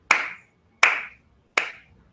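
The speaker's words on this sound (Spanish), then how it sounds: "voy a hacer un aplauso" Three single hand claps, close and sharp, evenly spaced about three-quarters of a second apart in an otherwise quiet room.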